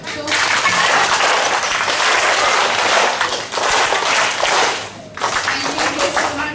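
Children aged three to five clap together at the end of a school workshop, a loud, dense burst of small hands that briefly dips twice before resuming, with faint voices underneath.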